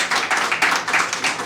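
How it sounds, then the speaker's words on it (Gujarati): An audience at a community event honouring NRI women claps together, a dense, close patter of many hands holding steady without a break. "આપણે તાળીઓના ગળગળાટથી"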